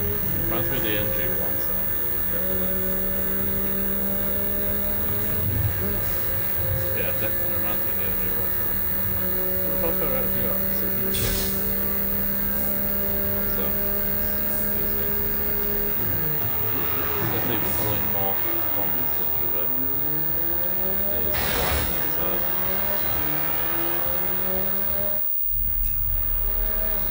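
McLaren Artura supercar engine in Forza Horizon 5, a sustained droning hum rising and falling through gear changes, with someone talking over it for much of the stretch.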